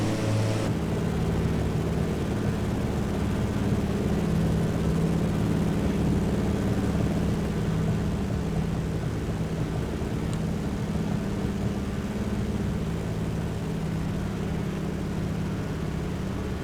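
A DHC-2 Beaver propeller plane engine in Microsoft Flight Simulator 2020 drones steadily and evenly throughout, a continuous close hum with no talk.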